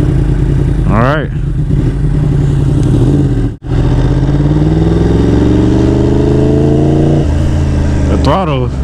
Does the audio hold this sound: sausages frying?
no